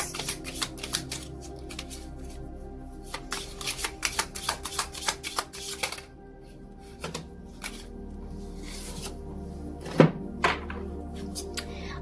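Tarot cards being shuffled by hand in a steady run of quick riffling flicks, then a pause and a few scattered taps and card slaps; close and fairly quiet, with no voices.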